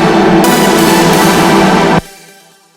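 Synth leads sent through a Valhalla reverb with a 22-second decay, a loud, dense wall of sound that suddenly cuts off and leaves a long fading reverb tail.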